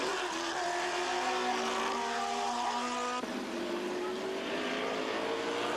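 Race cars at Mosport Park during the 1985 Can-Am Challenge, with a March 2-liter car among them, screaming past at high revs as rising and falling engine tones overlap and shift in pitch. The cars sound fairly close and loud, and there is no talk.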